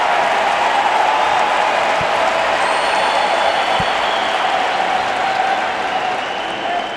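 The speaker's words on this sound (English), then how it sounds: "Crowd is certainly cheering for that." A crowd cheering and applauding at the 2017 US Open tennis quarterfinal, Venus Williams against Petra Kvitova, as a steady, broad wash of clapping that fades slightly toward the end.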